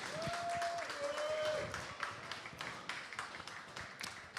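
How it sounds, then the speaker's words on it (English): Audience applause at a talk about medical cannabis farming, a patter of clapping hands that builds after a short tone and continues for a few seconds. "Please give him a huge round of applause."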